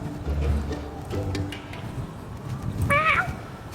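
A cat on a street in Spain gives a single short meow near the end, after a stretch of low street background.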